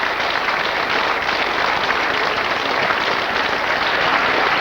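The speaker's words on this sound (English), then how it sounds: "Let's give them a round of applause" A TV game show studio audience claps loudly and evenly throughout, a thick, sustained burst of applause with no talking over it.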